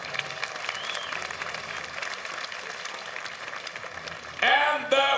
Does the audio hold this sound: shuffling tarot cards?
no